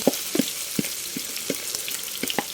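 A large shrimp okoy fritter frying in hot oil gives a steady close sizzle, punctuated by a few sharp pops and spatters.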